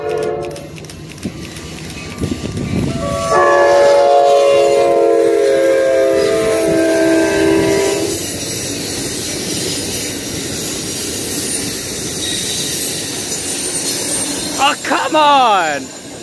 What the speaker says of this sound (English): here comes Amtrak 719.